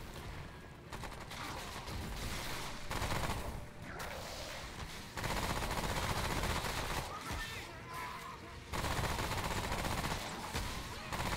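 Sustained gunfire from the video game Remnant: From the Ashes during a boss fight, dense rapid bursts of shots running continuously and loudly throughout, with brief lulls between volleys.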